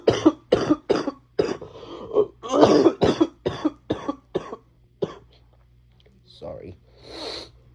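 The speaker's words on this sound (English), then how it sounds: "I'm literally so sorry for coughing like that." A person coughing repeatedly in a rapid series of about a dozen sharp, close coughs, followed by a few quieter throat-clearing sounds and breaths.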